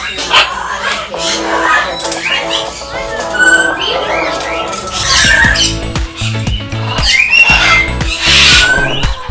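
Cockatoos and macaw parrots at a bird sanctuary squawk and screech loudly and near, harsh calls overlapping with whistles and chirps in irregular bursts.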